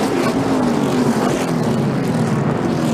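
NASCAR Cup Series race cars roaring through the final turns toward the finish of a short-track race, a dense loud continuous engine drone with a slowly falling pitch and no clear voice.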